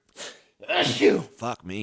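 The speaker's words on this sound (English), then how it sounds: "You just sneezed it all over us" A single loud, close sneeze from a man, then short bursts of speech from other men right after it.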